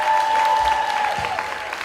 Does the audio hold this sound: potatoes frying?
no